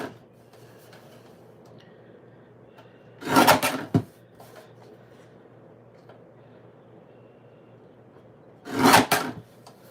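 Paper is trimmed for card making, two short, close rasping cuts a few seconds apart over quiet room tone.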